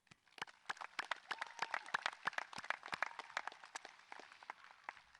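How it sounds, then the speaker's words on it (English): Sparse, scattered clapping from a few graduates at a 2020 high school graduation, individual claps heard distinctly and close, irregular in rhythm and thinning out toward the end. "So I want you to clap for yourselves."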